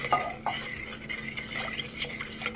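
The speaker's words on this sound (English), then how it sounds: "then you're going to stir that up" Canned cream of mushroom soup mixture being stirred: a spoon swishes and scrapes around the bowl in quick, continuous strokes with occasional light knocks, close up and with no talking.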